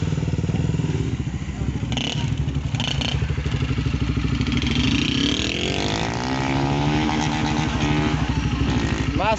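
Motorcycle engine revving hard and holding high throttle, a loud, close buzzing drone that dips and then climbs steeply in pitch, with clattering knocks early on.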